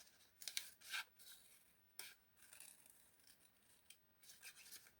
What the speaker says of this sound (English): So if I get my scissors